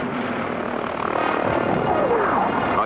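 A Boeing AH-64 Apache attack helicopter flies nearby, its engine and rotor making a loud, steady throbbing roar that swells slightly, with a whining engine tone sweeping through before it cuts off abruptly.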